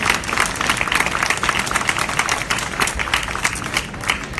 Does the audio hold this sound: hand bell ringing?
no